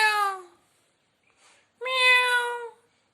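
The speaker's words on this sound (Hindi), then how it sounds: "बिल्ली," A cat meows twice, a short drawn-out cry followed after a pause by a longer, louder meow, close and clear with a faint soft sound between.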